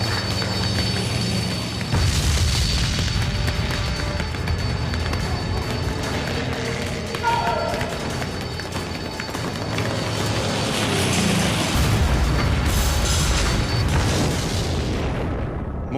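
Japanese attack on Pearl Harbor, with loud, continuous rumbling explosions and heavy booms that swell in waves over a dense roar.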